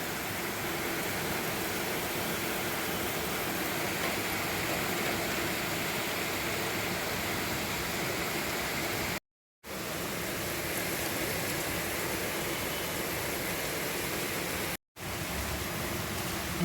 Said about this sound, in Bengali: অঝরে বৃষ্টি